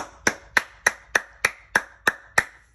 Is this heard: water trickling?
no